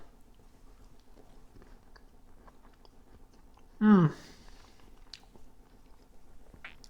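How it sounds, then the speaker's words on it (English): A single short crunchy bite of pepper with cheese stands out near the middle, loud and close, against a quiet background with faint clicks. "peppers are crunchy"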